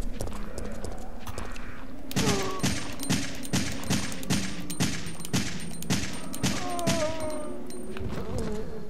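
Gunfire in the Resident Evil 3 video game, a rapid regular series of sharp shots, about a dozen evenly spaced cracks with ringing tones, moderately loud and without talk.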